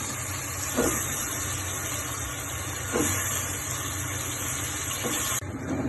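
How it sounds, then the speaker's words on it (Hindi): Washed, cut potatoes hitting hot, nearly roasted masala in a pan for aloo matar, setting off a loud, steady sizzling hiss that fills the scene, with a few brief stirring bumps. "अब इसमें हमने जो धोए हुए और कटे हुए आलू थे वो डाल देने।"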